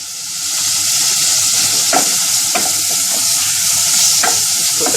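Minced keema and crushed red chili stirred and frying in a pan: a loud, dense sizzle with a few sharper scraping strokes of the spoon.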